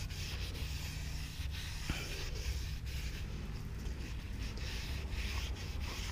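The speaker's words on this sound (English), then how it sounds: "So we're just gonna scrub that nice and clean." Steady scrubbing of a trailer wheel bearing with gasoline to strip off old grease, a continuous close rubbing texture with faint scattered ticks and no talking.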